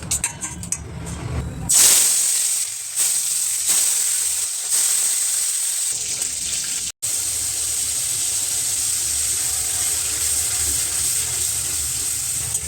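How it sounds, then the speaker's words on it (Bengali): Fish pieces frying in hot oil hiss and sizzle loudly and steadily, the bright crackle rising sharply at first and then holding at an even, close intensity with a brief break midway. "তাই প্রথমে মাছগুলো ভেজে নিই"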